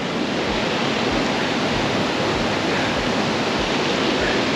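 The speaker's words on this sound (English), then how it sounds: "this is a bigger drop of water and you can hear it" A larger waterfall drop on Oak Canyon Trail in Mission Trails, San Diego: a loud, close, continuous roar of falling water that stays steady throughout, with no voices.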